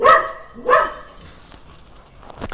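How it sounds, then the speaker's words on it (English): Two loud barks from a nearby dog in quick succession, followed by quieter shuffling and a faint yip at the end. "And my dog is barking."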